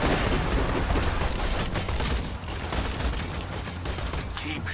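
Constant loud gunfire in Borderlands 2, a dense unbroken roar of rapid shots and explosions filling the whole stretch without pause.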